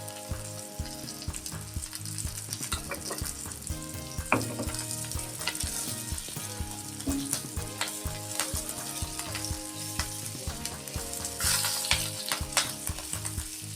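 Onion frying in a pan with a little salt, a continuous close sizzle with repeated clicks and scrapes of stirring throughout, no voices.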